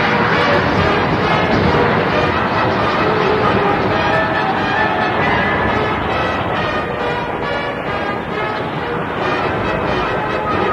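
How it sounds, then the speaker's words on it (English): Lingering slow-motion explosion from an animated movie, a dense, continuous roaring rumble with crackling texture that holds loud and steady for the whole stretch, with no talk. "this thing is still exploding"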